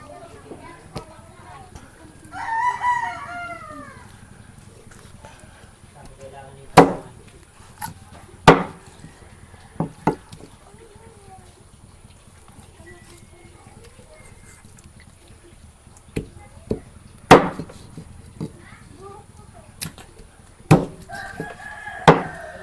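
Sharp, heavy chopping strikes of a blade cutting through about 11 kilos of chicken meat come in irregular bursts, some single and some in quick pairs, with talk and a rooster crowing in the background.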